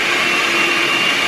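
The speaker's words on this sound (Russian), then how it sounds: "Ты первый раз взяла миксер в руки?" An electric hand mixer whisks eggs and sugar for pancake batter, giving a loud, steady motor whir that holds evenly throughout the short moment.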